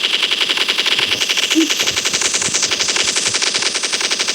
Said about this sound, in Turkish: Üçte iki iki yüz mermili silah taramalı.